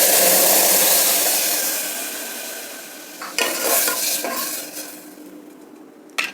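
Cooked lentils and pepper powder go into a pot of mint rasam: a hissing sizzle fades, then close stirring scrapes and utensil clinks follow.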